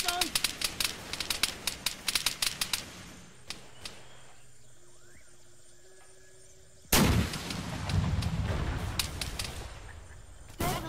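Rockets slam into a vehicle in the Arma 3 video game, a rapid string of sharp blasts and cracks, then a quiet lull before a heavy close explosion with crackling debris; a voice talks at points.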